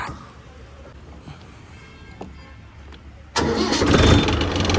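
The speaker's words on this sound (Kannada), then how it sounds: "ಬನ್ನಿ ಟ್ರ್ಯಾಕ್ಟರ್ನ ತಗೊಂಡೋಗ್ಬಿಟ್ಟು ಶೋರೂಮ್ ಹತ್ರ ಬಿಟ್ಬಿಡೋಣ" Mahindra Yuvo Tech Plus 475 DI tractor engine starting close by, a quiet background that suddenly bursts into a loud, dense, steady diesel roar over the last second and a half.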